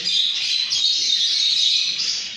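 Caged painted finches chirping continuously, a dense stream of thin high tweets and calls close by, steady and fairly loud with no talking.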